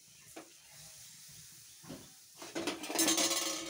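Half-boiled eggs stirred in hot water in a hot pan, with a few soft knocks and clinks over a low steamy hiss that swells into louder sizzling and bubbling near the end.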